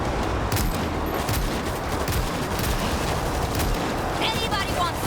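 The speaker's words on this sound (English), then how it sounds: "This is probably where I should use the grenade launcher." Rapid grenade launcher fire and explosions in the zombie shooter World War Z, a dense, loud barrage of blasts and gunfire running throughout with no pauses.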